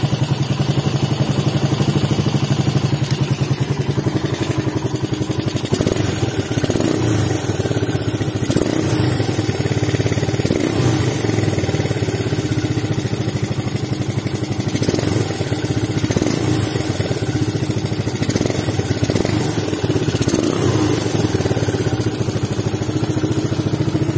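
Suzuki Satria FU motorcycle engine fitted with a PWK 28 carburetor and open air filter, running loud and close throughout with steady revving and rough, clattering throttle blips, no talking over it.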